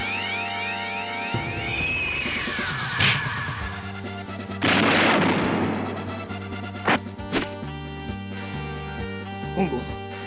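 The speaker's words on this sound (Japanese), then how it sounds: "俺がこのサボテン爆弾であの世へ送ってやろう。" A cactus bomb explodes in the PS2 game Kamen Rider: Genealogy of Justice, a loud crashing burst midway through, set among game music, alarm-like tones and character voices.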